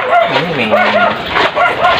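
Several dogs gathered near a rooftop antenna setup in Cavite bark and yip in quick, loud bursts close by, with high whimpering cries between the barks.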